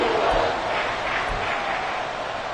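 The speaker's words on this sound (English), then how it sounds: "The crowd getting into it as we come up on a big 3rd down." A video-game stadium crowd in Madden 24 football roars and cheers steadily ahead of a big third down, a dense, even wash of noise that holds for the whole stretch.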